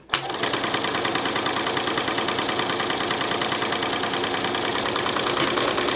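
A sewing machine stitches bias binding into a drawstring, running at a steady, fast, continuous hum with rapid needle chatter throughout, close and alone with no talk.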